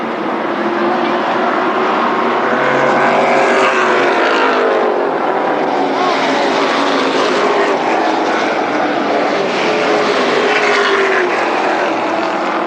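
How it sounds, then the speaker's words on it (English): Late model stock cars racing at Berlin Raceway in 1997 make a loud, continuous engine roar, with pitch rising and falling as the cars pass close by. "They're really racing hard for that third position."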